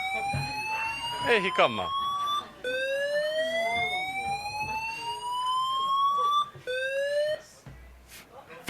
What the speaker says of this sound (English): now it's a siren in the building